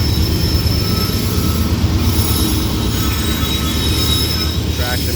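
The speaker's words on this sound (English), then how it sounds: "Traction motors trying to dig in." A slow CSX coal train grinds up the grade on Parrs Ridge in Maryland, its locomotive traction motors straining while wheels squeal and rumble in a loud, constant drone, with no talk.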